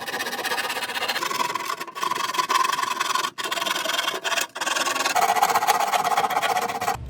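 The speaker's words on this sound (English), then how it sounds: "Next, we're going to sand down the opening." Rough cut opening in a plastic hermit crab terrarium being sanded by hand, a steady close rasping scrape that runs almost continuously with a few brief pauses.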